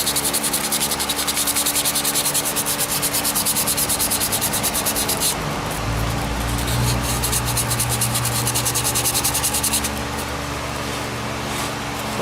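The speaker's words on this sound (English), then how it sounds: "I'm sanding it with a little bit of 220 grit sandpaper." Sandpaper of 220 grit rubbing over a turned wooden bowl, a steady close, loud scratchy hiss that runs continuously with a brief change in texture partway through, no talking.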